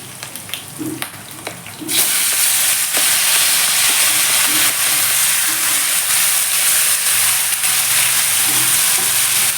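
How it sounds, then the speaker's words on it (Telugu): Chopped tomatoes hit hot oil in a pan for ridge gourd curry. A few soft knocks come first, then a sudden loud, steady sizzle and hiss that holds for the rest of the time, close up. "ఈ టమాటో కూడా ఏంటంటే కాస్త మగ్గనిచ్చేద్దాం"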